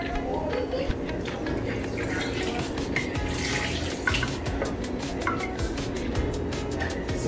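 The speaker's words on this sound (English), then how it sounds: "I think it's good time now to add my water, my cooking water" Cooking water is poured into a pot of banga soup with chicken, a steady splashing, rushing stream of water that runs continuously at close range with no talking.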